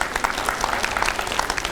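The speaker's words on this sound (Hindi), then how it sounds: "एक बार जोरदार तालियां" Applause and clapping break out from a studio audience at a televised Hindi discussion show about the Chandrayaan-3 lunar landing, a steady broadband patter with no speech over it, lasting under two seconds.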